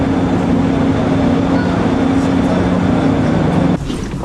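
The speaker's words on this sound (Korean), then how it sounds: "열차가 곧 출발합니다." A train about to depart gives a steady, loud, low rumble and hum from inside the carriage, shifting in tone shortly before the end.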